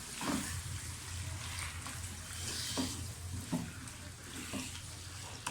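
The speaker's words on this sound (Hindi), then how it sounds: "लहसुन डाल दें। अदरक डाल दें। थोड़ा सा फ्राई करें।" Steady sizzling of garlic and ginger frying in a hot pan, with a few soft clinks and scrapes of stirring scattered throughout; no voices.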